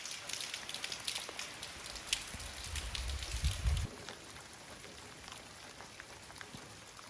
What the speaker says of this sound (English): the weather outside is absolutely awful. It's windy and rainy, and I think we've got a storm on the way